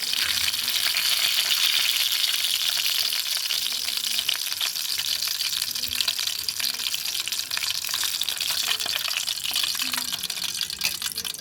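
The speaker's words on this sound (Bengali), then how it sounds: "এভাবে চলো সবকটা ভেজে নিয়ে আবার আসছি।" Chicken and vegetable sticks fry in hot oil with a dense, continuous sizzling hiss that holds steady and close throughout, with no talking.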